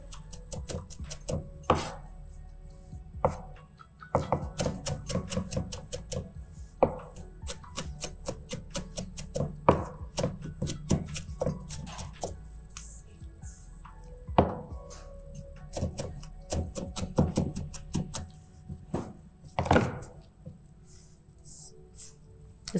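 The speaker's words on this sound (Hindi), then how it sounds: "अंडे वाली चॉप करनी है आपने, जिसे कहते हैं फाइन चॉप। इसे आप फाइन चॉप कीजिए।" A knife finely chopping boiled egg on a board, with quick rapid taps in dense bursts that pause and resume over a steady background.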